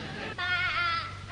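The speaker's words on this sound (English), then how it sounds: "Oh, of course, the sheep." A sheep bleat sound effect from an old-time radio comedy: one short, wavering, nasal bleat of about half a second that rises out of low background noise.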